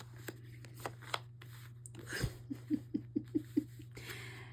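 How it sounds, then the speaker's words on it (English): Tarot cards being shuffled by hand, a run of quick soft riffling taps in a rhythmic burst after a few scattered clicks, close and quiet over a low steady hum. "And I'm just shuffling here."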